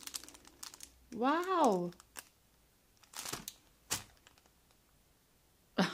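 Bags crinkle and rustle in short bursts as they are unpacked nearby, with a single excited exclamation from a voice partway through and another crisp rustle at the end.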